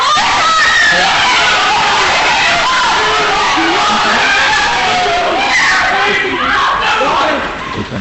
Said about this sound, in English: Why do they scream and run?